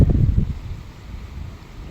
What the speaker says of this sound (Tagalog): Kusog pa kayong hangin, guys, oh.